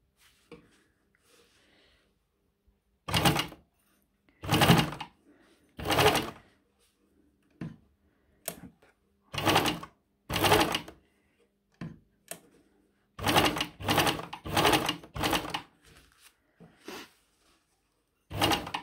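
Short bursts of a sewing machine running a zigzag stitch along the back seam of a menstrual shorty, about a dozen separate runs of a second or less with quiet pauses between them, fairly close.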